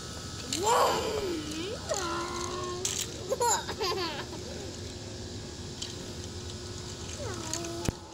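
A pet cat gives several short, rising and falling mews and chirps at close range in a home during a child's birthday, heard over a steady background hum.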